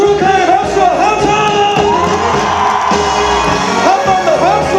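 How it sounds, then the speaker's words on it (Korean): At a Hwaseong outdoor festival celebrating the city's one millionth resident, a large crowd whoops, shouts and cheers loudly and without a break, with voices rising and falling in the mass of noise. "화성 시민 여러분들 모두 축하의 박수와 함성!"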